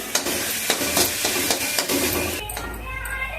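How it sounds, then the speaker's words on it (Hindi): Tomatoes with turmeric, salt and chili frying in a kadai give a steady, dense sizzle broken by stirring clatters, then settle into a smoother hiss. "इधर एक कढ़ाई में फिर टमाटर डाल के भूनेंगे और उसमें थोड़ा सा हल्दी नमक मिर्च डाल देंगे।"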